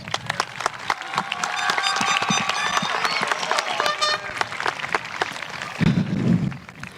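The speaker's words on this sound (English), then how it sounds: "please give him one more round of applause" A high school graduation crowd applauds, dense clapping with cheers and a few shouts swelling through the middle, then tapering as voices and movement take over near the end.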